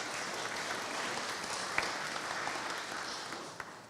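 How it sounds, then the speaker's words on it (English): Steady audience applause at a Ramadan iftar event in Lambeth, London, a continuous wash of many hands clapping at even loudness for a few seconds with a couple of sharper claps standing out near the end. "we should clap"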